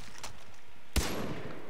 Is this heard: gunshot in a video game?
yes